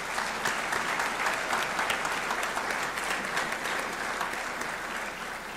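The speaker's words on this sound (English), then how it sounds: "Let's give them a round of applause." Audience at a college athletic Hall of Fame ceremony applauding, dense sustained clapping from a roomful of people that holds steady the whole time, fading only slightly near the end.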